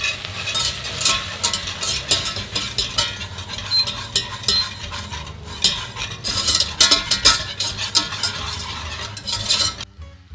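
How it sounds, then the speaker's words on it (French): Flour whisked into melted butter in a pan for a Belgian endive gratin, with a steady rapid scraping and clinking of the whisk against the metal, close and continuous for about ten seconds before stopping abruptly. "je vais venir verser ma farine et fouetter tout ça"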